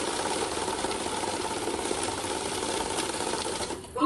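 A cash counting machine in Karur running banknotes through, a dense fast whirring flutter that holds steady for about four seconds before stopping with a small clunk, close and loud, no talking.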